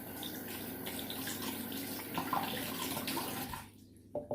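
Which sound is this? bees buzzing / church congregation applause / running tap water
running tap water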